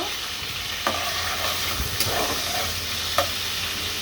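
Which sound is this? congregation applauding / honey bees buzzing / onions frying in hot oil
onions frying in hot oil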